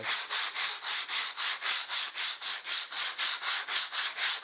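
Sandpaper scrapes across a plastered wall in even strokes all in one direction, roughly four quick rasps per second, close and loud with nothing else audible.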